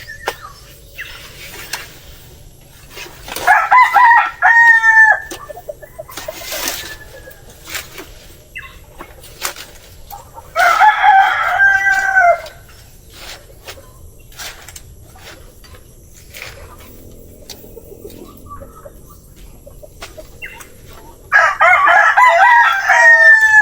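Rooster crowing in three separate bursts spaced several seconds apart, loud and fairly close, with quieter hen clucking and fowl noises between them in a backyard laying coop where nests are lined for brooding hens.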